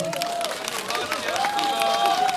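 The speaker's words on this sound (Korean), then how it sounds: "박수 한번 부탁드릴게요" Applause from a cinema audience at a film stage greeting in Yeongdeungpo, steady clapping throughout with crowd noise and voices over it.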